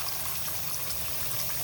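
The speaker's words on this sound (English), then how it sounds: "So we'll turn the water on, pull the drain, and just put it right underneath there like that." Tap water running steadily into a sink with the drain open, a constant close gushing rush with no talk.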